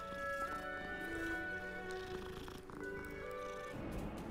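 A cat in the video game Hogwarts Legacy, with soft meows and purring woven into the game's sustained orchestral music, faint and continuous with no clear pauses.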